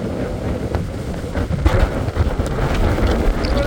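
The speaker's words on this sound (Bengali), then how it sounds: "কেমন লাগছে এই ঝড়ে।" Strong storm wind blows across a rooftop, roaring and buffeting the microphone in loud, continuous gusts with no talk.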